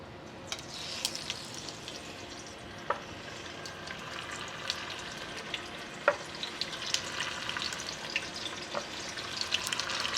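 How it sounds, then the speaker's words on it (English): Braciole meat searing in an oiled pot, a faint, steady sizzle and crackle with scattered small pops, heard close but quiet and without talk. "Let this heat up a little, and then we're gonna start searing our meat"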